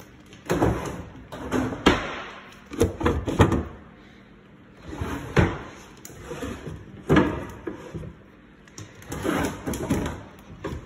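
A drawer in a neglected house is repeatedly pulled open and pushed shut, with several loud wooden thumps, slides and knocks in irregular bursts separated by short pauses, close by.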